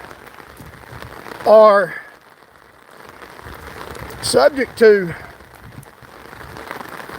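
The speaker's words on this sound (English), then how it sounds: "I'm talking loud because it's raining." Steady rain falls outside as a continuous hiss of drops on surfaces, running beneath a person speaking loudly throughout.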